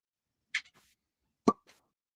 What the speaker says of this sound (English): Oh, good cork pop.